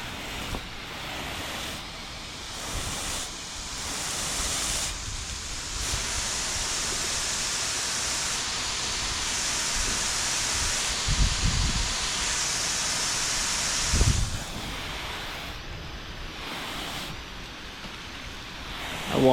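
Water sprayed onto ceramic-coated windshield glass makes a steady, close, broadband rush for most of the span, with a few brief louder splashes near the middle and toward the end and no voices.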